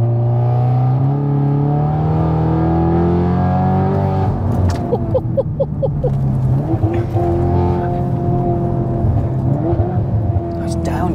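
Fully built 600bhp Audi S3 8V revving hard, the engine note climbing through gears and then dropping sharply on downshifts with crackles, loud and close, with people talking over it.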